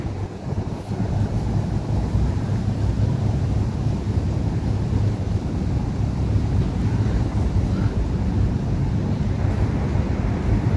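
Constant wind buffets the microphone beside a large pond, a dense low rumble with rushing gusts that continues without a break, no voices.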